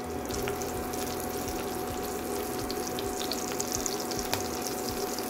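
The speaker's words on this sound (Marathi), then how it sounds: "जिरं थोडं तळतळलं की आपण यामध्ये मिरची टाकायची आहे." Cumin seeds and green chillies fry in hot oil for sabudana khichdi, a soft, even sizzle and crackle lasting a few seconds at low volume, with no voices.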